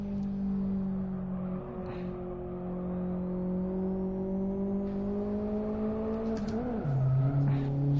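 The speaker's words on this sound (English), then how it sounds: "if you've got your sound on, you can hear the turbo" Turbocharged car engine in the racing game Live for Speed, a steady droning engine with a faint high turbo whine layered on top, holding an even pitch before a brief shift near the end, heard alone without talk.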